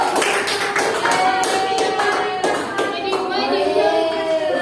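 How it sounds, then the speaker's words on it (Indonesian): Students in a classroom clap for the winning group during a micro-teaching lesson, quick rhythmic hand claps close by, with children's voices and talk running through. "Tepuk tangannya dulu"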